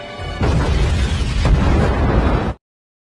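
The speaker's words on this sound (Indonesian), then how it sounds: "saat ada bunyi ledakan Vero berhasil lari" A loud, sustained explosion blast from an action film, booming and rumbling heavily for about two seconds before cutting off abruptly.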